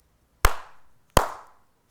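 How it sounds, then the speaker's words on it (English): Two sharp, close hand claps spaced under a second apart, each with a short ringing room echo, in an otherwise quiet space. "if you're happy and you know it, clap your hands"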